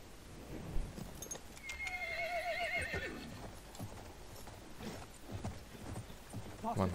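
Horse neighs and hooves clip-clop in the video game Battlefield 1. A loud whinny sounds early on, hoofbeats and game effects run through the rest, and a voice talks faintly underneath.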